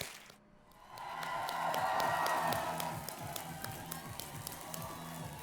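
Studio audience at a televised quiz show applauds and cheers to welcome the Indian women's cricket team and its captain, a sustained swell of clapping that builds and then settles.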